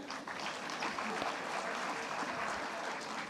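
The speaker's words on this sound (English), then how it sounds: "let's give a big round of applause to our previous panelists" Audience applause at an AI research symposium session, continuous crowd clapping of steady moderate loudness with a voice speaking over it.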